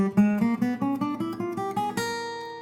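A whole half scale is played on a fingerstyle jazz-blues guitar, a quick run of clear plucked single notes climbing steadily before ending on a sustained ringing chord, solo and close.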